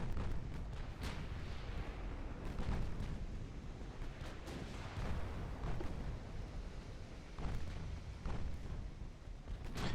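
Heavy naval gunfire in Ultimate Admiral: Dreadnoughts, with repeated deep booms from battleship big guns rolling over a dense, continuous rumble of distant artillery, loud and steady across the whole stretch with no voices.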